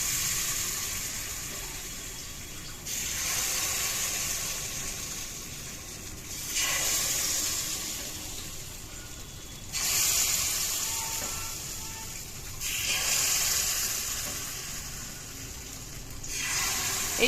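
Rice-flour batter mixed with grated coconut and a little salt poured in small amounts into a hot pan for milk chitoi pitha, giving repeated bursts of loud sizzling and hissing that swell and ease in several waves, with no talking.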